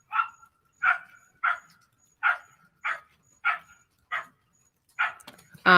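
A dog barks about eight times in a steady series of sharp, fairly close yaps, the barks evenly spaced with short pauses between them, ending in a brief burst of louder noise.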